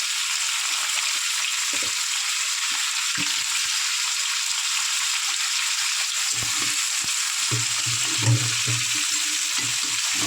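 Pointed gourd (potol) sizzling steadily in oil in a pan, a bright, even frying hiss throughout, with a few soft low bumps of stirring or handling.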